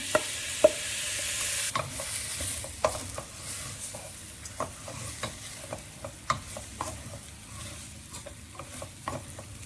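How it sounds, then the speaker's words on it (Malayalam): Washed rice with biryani masala roasts in a pan for veg biryani, giving a soft sizzle broken by repeated sharp scrapes and clicks of a spoon stirring at irregular intervals, with no talking. "കഴുകി വെച്ച അരി ഇട്ട് നന്നായിട്ട് ഒരു അഞ്ച് മിനിറ്റ് ഒന്ന് വറുത്തെടുക്കാം"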